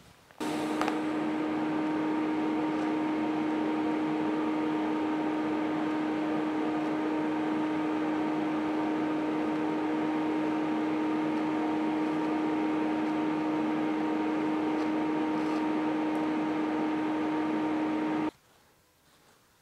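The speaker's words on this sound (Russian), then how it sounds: "покажу сварку при правильном подключении горелки, то есть минус на горелке, плюс на массе, прямая полярность" A TIG welding arc runs with the torch on straight polarity, negative on the torch and positive on the work clamp. A steady, even buzz with a strong constant hum lasts about eighteen seconds, then cuts off abruptly.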